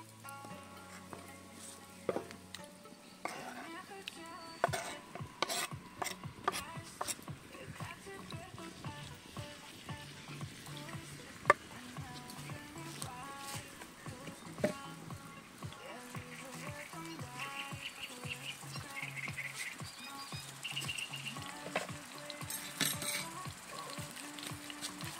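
Meat fries in hot oil in a pot for plov cooked outdoors on a fishing trip, a steady close sizzle broken by scattered clanks and scrapes of stirring, with faint voices here and there.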